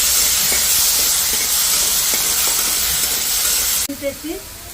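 Chillies and jackfruit seeds fry in oil with a loud, steady hissing sizzle and light stirring taps, before the sizzle drops away and a voice is briefly heard at the end.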